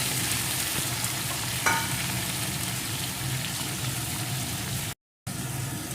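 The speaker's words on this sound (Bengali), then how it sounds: "এখন আমি পটলগুলোকে সুন্দর করে ভেজে নেব" Sliced pointed gourd fries in oil with a constant close sizzle. A light clink of stirring comes early, and the sound cuts out briefly near the end.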